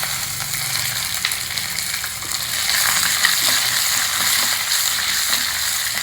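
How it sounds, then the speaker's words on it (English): Four dry red chilies, a chopped green chili and curry leaves fry together in a pan for a South Indian festival lunch, giving a loud, steady sizzle that swells midway, with no voices. "I am adding 4 dry red chilies and fry all well together"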